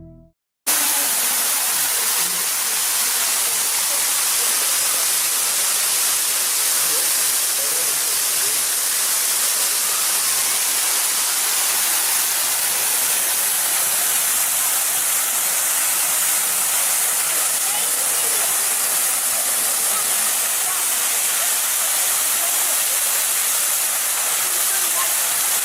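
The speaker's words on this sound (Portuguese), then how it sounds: "A água despencava de quase 30 metros das rochas acima." A waterfall plunges nearly 30 metres off rocks in a forest, giving a loud, steady, unbroken roar of rushing water from start to finish.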